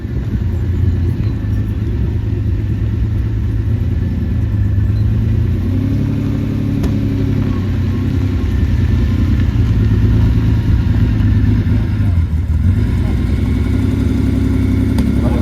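Steady low engine rumble from two idling 1954 Lagonda DP115 cars, a continuous deep drone with a faint mid-range hum, close and constant throughout.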